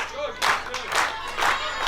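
A wrestling crowd at a PW Clash championship match cheers and claps in rising bursts, a fairly distant, roomy roar swelling three times over a commentator's voice.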